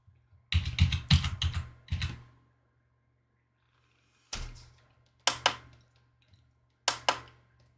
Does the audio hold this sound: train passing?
no